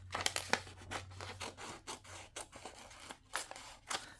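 Scissors snip through junk journal paper pages in a run of crisp, separate cuts with short pauses between them, close and clear, no voices.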